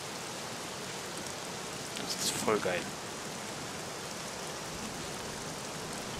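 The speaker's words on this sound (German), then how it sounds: "Danke, Regen." Steady, even rain hiss falling in the SCUM survival game, constant throughout at moderate loudness, with a short burst of voices talking over it midway.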